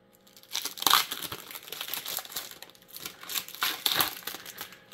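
Cigar box packaging for Padilla Cazadores Robusto cigars is opened, giving close, loud bursts of crinkling and tearing wrapper with short pauses between them.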